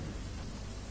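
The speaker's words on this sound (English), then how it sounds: "Where is the storm going?" Steady rain with a low thunderstorm rumble in a battle royale–style video game, a continuous dense wash of noise at even loudness throughout, with no talk.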